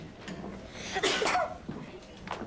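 A single sharp sneeze bursts out near the middle, surrounded by quiet room sound and faint breathy noises.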